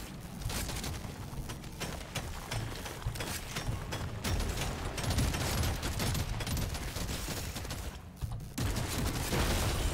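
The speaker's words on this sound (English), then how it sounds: "Shotgun's gonna start doing good stuff. It shoots twice." Dense, continuous gunfire and explosive bursts in Deep Rock Galactic: Survivor, with shotgun blasts lost in a constant loud barrage of combat noise.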